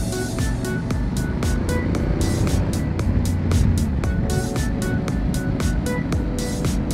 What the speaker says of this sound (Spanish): Me gusta mucho la finura con la que suena el motor